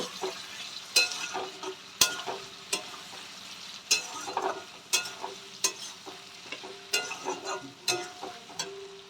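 Kashmiri red chilli powder being stirred into ghugni in a hot pan: repeated spoon scrapes and knocks over a continuous sizzle, close and alone.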